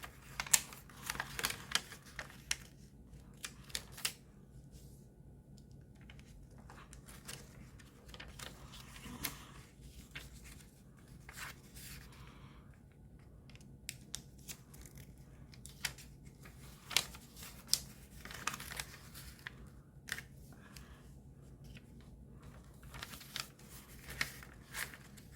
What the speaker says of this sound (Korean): 일단 가로, 세로, 대각선으로 접었다 펴줍니다.